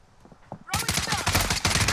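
Rapid enemy gunfire in Call of Duty Cold War Warzone, erupting abruptly after a quiet moment into a loud, sustained burst of automatic shots close by.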